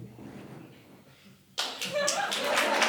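A stand-up comedy audience breaks into sudden, loud applause after a quiet stretch, a sustained wash of many hands clapping that swells and holds to the end.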